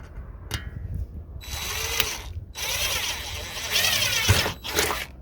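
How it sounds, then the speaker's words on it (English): A power drill whirs in sustained bursts, its pitch rising and falling as the bit bites into aluminum, with short pauses between runs. "that's where I'm going to drill the hole for the bolt"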